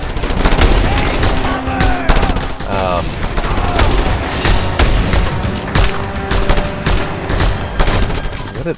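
Dense gunfire in Just Cause 2, loud, overlapping bursts of automatic fire and shots that go on throughout, mixed with booms and in-game chatter.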